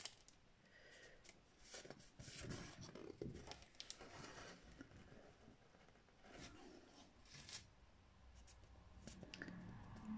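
Scissors snip a small picture out of thick paper in faint, irregular bursts of cutting and rustling, close and quiet, with no voice.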